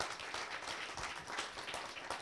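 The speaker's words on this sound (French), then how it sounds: "On peut encore l'applaudir." Conference audience applauding in a hall, a dense continuous patter of many clapping hands, soft and somewhat distant, with no speech over it.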